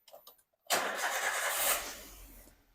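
An older Toyota Avanza engine cranks and catches after a few faint clicks, settling into a rough idle that fades as it stalls, heard close and fairly loud.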